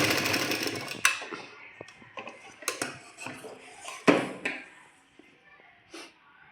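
A sewing machine stitches two bias-cut fabric strips together for neckline piping: short bursts of close mechanical clatter and clicks separated by pauses, in a quiet room.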